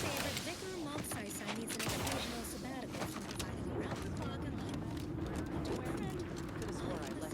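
A weapon in The Outer Worlds 2 fires continuously with the trigger held, rapid bursts of gunfire crackling amid game noise while someone talks over it.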